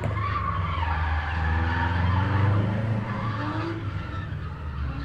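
A Subaru skids around cones at a gymkhana motor club test, with sustained tire squeal and revving engine noise throughout, fairly close and loud.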